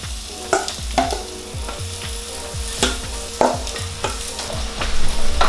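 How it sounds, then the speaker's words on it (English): An asparagus okonomiyaki pancake fries in a generous amount of oil in a pan, with a loud, steady sizzle broken by a regular ticking of stirring or scraping. "go ahead and add some oil to your pan, generous amount. We're just gonna go ahead and drop this down."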